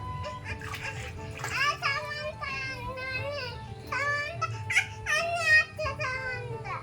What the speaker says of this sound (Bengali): বড়দি ভাই স্নান করিয়ে দিচ্ছে।